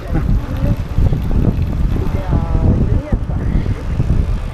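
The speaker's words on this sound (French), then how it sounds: "Le vent m'aide à aller un peu plus vite." Steady wind rushes and buffets the microphone while cycling along the Danube, with road rumble underneath and brief voices now and then.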